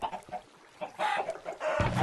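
Chickens clucking at a chicken spawner in modded Minecraft, several short game clucks scattered through the clip, the busiest bursts near the end.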